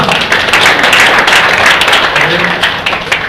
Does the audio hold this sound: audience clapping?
yes